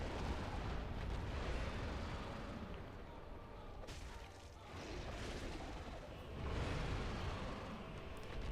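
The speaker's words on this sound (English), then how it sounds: "Oh, that was the explosion." Explosion in the video game Dark Souls: a loud, sustained rumbling blast that roars continuously, dips briefly midway, then swells again toward the end.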